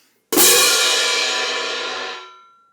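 A single crash cymbal struck once, loud and close, its bright wash ringing out alone and fading smoothly over about two seconds.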